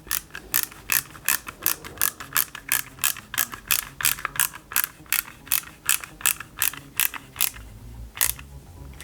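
Small self-tapping screws are driven into parts of an Eaglemoss Ghostbusters Ecto-1 model kit with a hand screwdriver, making a close, crisp, regular ratcheting click about twice a second for several seconds.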